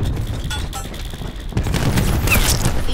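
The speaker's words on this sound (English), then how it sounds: "Throwing cluster grenade." A cluster grenade goes off in the Black Ops video game as a rapid fusillade of close, loud cracking blasts that builds from a steady rumble into denser bursts over the last half.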